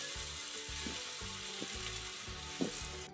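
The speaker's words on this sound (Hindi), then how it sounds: "और अब धीरे धीरे इन बड़ों को इस तेल में डालते रहेंगे।" Sabudana vadas frying in hot oil, a bright continuous sizzle with low bubbling pops and a few sharper crackles as more vadas drop into the pan.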